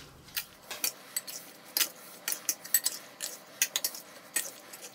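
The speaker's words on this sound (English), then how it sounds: "Simply, we're going to give it a mix." Couscous salad with garlic being tossed in a bowl with utensils, heard as light, irregular clicks, taps and clinks close by, with a steady rustling mix underneath.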